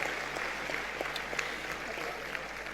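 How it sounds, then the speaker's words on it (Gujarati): An audience at an award ceremony claps for Bhumikbhai, making faint, distant, continuous applause with soft scattered claps throughout. "એટલે એકવાર ખૂબ જોરદાર તાળીઓ ભૂમિકભાઈને"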